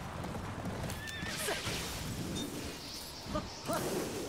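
A horse whinnies amid hoofbeats and whooshing movement in the video game Attack on Titan 2, layered game-like effects with no speech.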